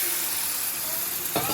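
Spices frying in oil in a pan sizzle steadily up close, then a sharper burst of hiss near the end as water is poured in over them.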